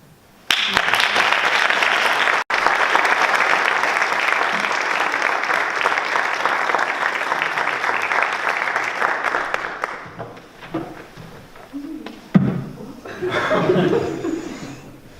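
An audience at a school talk applauds a student speaker with loud, sustained clapping for about ten seconds, then it thins into chuckles and scattered laughter with a few voices, ending in a short final swell of crowd noise.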